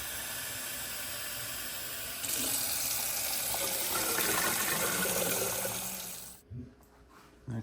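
Cold tap water runs steadily into a pot on a kitchen sink, a continuous hiss that grows slightly fuller partway through before the faucet shuts off, leaving a few faint clunks.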